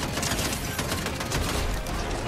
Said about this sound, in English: This has a machine gun though.